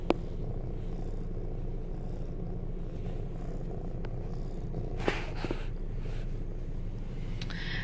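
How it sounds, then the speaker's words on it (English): A cat purrs close up in a continuous low rumbling rhythm, with a few faint rustles and taps over it. "You hear him purring? He's so happy."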